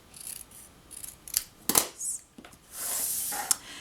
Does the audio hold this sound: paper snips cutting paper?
yes